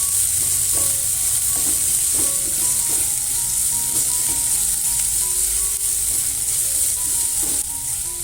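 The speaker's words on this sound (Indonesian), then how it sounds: "Agar jahe lebih wangi, jahe bisa kita tumis sampai berwarna kuning kecoklatan." Ginger sautéing in oil in a pan gives a loud, steady sizzle with light scraping stirs now and then, and no one speaks.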